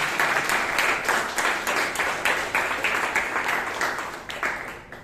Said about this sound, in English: please give Secretary Shreya a huge round of applause.